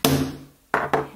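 A hammer hitting an eyelet setting tool that punches through chipboard: three sharp, close thwacks, the first followed by a short gap, the last two in quick succession.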